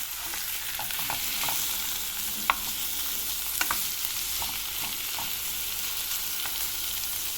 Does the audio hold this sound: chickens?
no